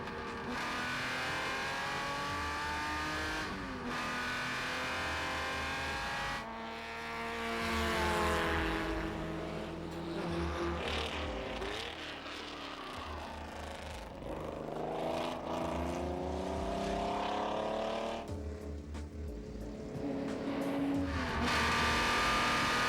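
Heard from on board, a Lister Jaguar race car laps at the Le Mans Classic, its engine rising and falling through repeated gear changes with loud revving pulls and braking dips, close and continuous.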